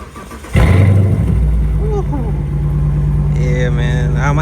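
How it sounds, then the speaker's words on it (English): A Dodge Charger cold-starts with a sudden loud crank-and-catch, then settles into a steady, rumbling high idle close by, while someone talks briefly over the engine. "let me go ahead and get y'all a cold start before I pull off"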